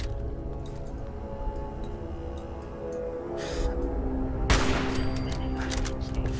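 Automated turret gunfire in Fallout 4, survival mode, heard as a loud burst of rapid shots late in the passage over a constant game background hum, with no voice in the segment.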